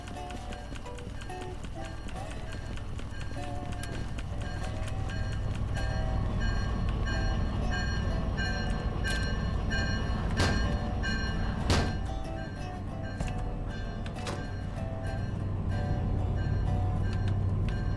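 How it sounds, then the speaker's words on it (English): A train running in the video game Derail Valley, a steady low rumble with rhythmic clanks and thunks of wheels on rails, continuous and loud throughout. "The train noise must be drowning it out, guys."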